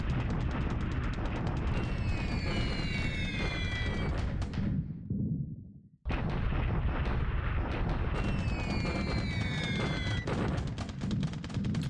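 Bombers striking industrial targets in a WWII strategy game, heard as loud, continuous rumbling blasts and booms that briefly fall silent midway before the barrage resumes at full force.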